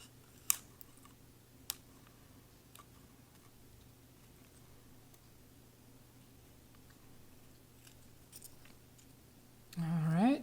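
Scissors snip around a printed circle image in a quiet room, a few sharp isolated clicks spaced seconds apart over a low steady hum, with a voice starting to talk at the end.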